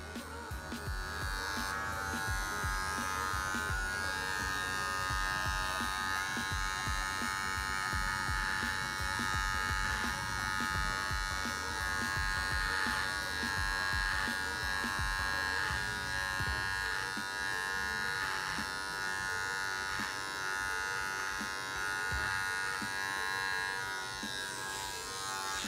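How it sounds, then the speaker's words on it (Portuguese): Electric hair clipper running steadily and up close as it trims a beard tight to the skin in a barbershop, giving a constant loud buzz with no talking. "Nós vamos vir com a máquina rente e retirar o processo."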